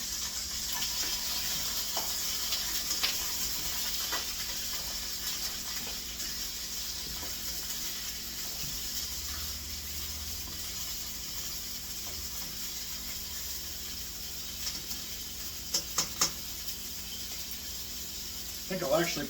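Sauce sizzles and steams in a pan on a kitchen stove, a soft, steady hiss running throughout, with a few quiet clicks and clatters near the end.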